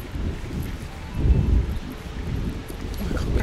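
Outdoors, wind rumbles and buffets the microphone steadily, with a gust swelling briefly in the middle.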